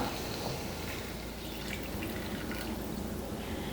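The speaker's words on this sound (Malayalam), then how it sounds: "ഇതിലേക്ക് നമുക്ക് ഒരു കപ്പ് ചൂടുവെള്ളം ചേർത്ത് കൊടുക്കാം" Hot water poured from a cup into a pan of chilli chicken, a steady liquid splash and trickle that stays moderately loud for the few seconds without a break.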